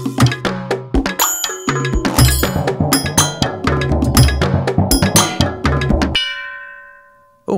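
A mail arrival notification sounds: a busy run of bright bell-like dings and clanks, loud and close, ending in a single ringing chime that fades out.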